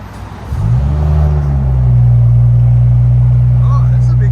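A 2017 BMW 740i with a 3.0L turbocharged inline-six and muffler delete revs up from idle, its deep exhaust drone swelling loud and steady and holding near.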